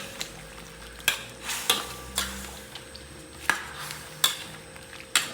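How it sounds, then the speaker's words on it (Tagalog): Chicken adobo stirred in a pot, a spoon scraping and knocking against the metal in irregular strokes roughly once a second, clear and close over a faint steady hum, with no talking. "So yan, pwede na natin haluin yan."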